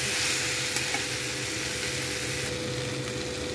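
Potatoes and taro frying together in a pan give a continuous loud sizzle and hiss up close, unbroken for a few seconds with a light stir or tap.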